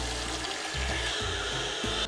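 Cold water runs steadily from a newly installed faucet with a temperature-limiting lever, a close, continuous rushing hiss with slight fluctuations and no talking.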